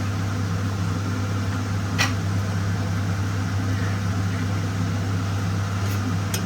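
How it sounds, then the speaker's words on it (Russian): A milk cream separator spins in a home kitchen with a steady, droning motor hum that holds an even level throughout, broken only by one faint click. "Сепаратор, как вы слышите, уже крутится."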